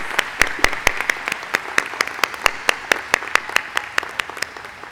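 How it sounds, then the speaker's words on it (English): Applause at a college commencement ceremony for elementary and early childhood education graduates: a crowd claps in a steady stream of sharp, distinct claps, moderately loud, with no talk. "Let's give another round of applause for all of our urban MAT students"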